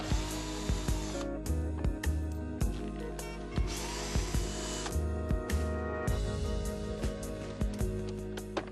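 A power screwdriver backs out the front grille screws on a Mercedes-Benz Citan (Model 415) with the hood open, giving a string of short, close whirring bursts separated by brief pauses.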